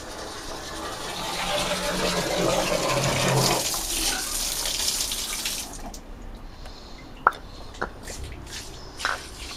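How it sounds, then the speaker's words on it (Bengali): Tap water runs steadily over a stone grinding slab being washed, a loud continuous gush for several seconds before it stops, leaving a few faint drips and knocks. "শিলটা প্রথমে ধুয়ে নিই ভালো করে।"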